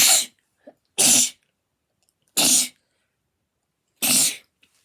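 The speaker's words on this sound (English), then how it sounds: "Oh, a sneeze coming now." Three or four sharp, loud sneezes close to the microphone, spaced about a second apart with silence between, plus a couple of tiny breath sounds.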